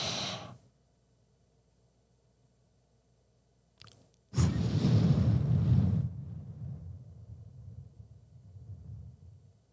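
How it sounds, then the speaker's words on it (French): Slow, deliberate breathing right against the microphone: a faint breath at the start, a pause, then a long, heavy, breathy exhale that fades out gradually. "je vais me coller contre le micro, comme ça vous allez pouvoir m'entendre respirer"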